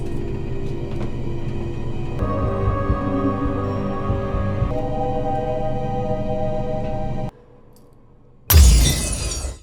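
A pendulum shatters from a supernatural force in a movie: one loud, sharp smash with a crashing burst, arriving just after sustained dramatic music cuts to a moment of near silence.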